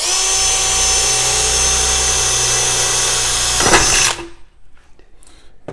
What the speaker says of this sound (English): I'm going to drill a pilot hole to start with